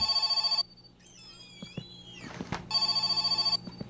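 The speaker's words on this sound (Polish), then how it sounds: "O proszę, jeszcze telefon mamy." An old-style telephone bell in My Summer Car rings in two bursts, one at the start and one near the end, with faint in-game clatter and shuffling in between.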